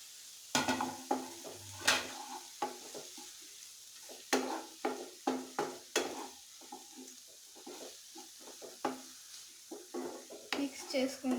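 Tomato pieces and curry leaves frying in a pan and being stirred, with a low steady sizzle under repeated clinks and scrapes of a spoon against the pan, close by, with a voice talking at times.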